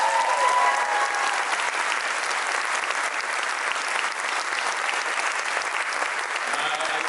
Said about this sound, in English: can we please give a round of applause to our president,